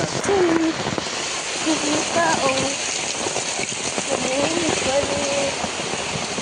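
Steady rain pours down outdoors on a flooded village road, a dense continuous patter throughout, with a voice talking over it.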